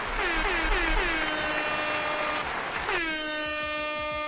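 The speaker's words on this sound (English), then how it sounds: "We threw in an extra air horn." Loud air horn blasts, a few short honks in quick succession followed by a longer sustained blare, standing alone without talk.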